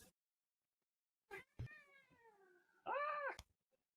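A house cat meows twice at close range, a long falling cry followed by a louder, shorter one, with a few soft handling noises around them in an otherwise quiet room.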